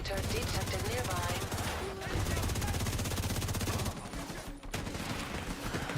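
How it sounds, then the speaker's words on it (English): Rapid automatic gunfire and launcher blasts in the video game The Division 2: dense, continuous rattling bursts close by, broken by a short pause, with voices talking underneath. "This guy's really shooting rockets at him."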